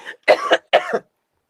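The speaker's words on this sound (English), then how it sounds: "I am going to be in a coughing fit here soon" Two harsh coughs in quick succession, close and fairly loud, with a short throaty sound just before.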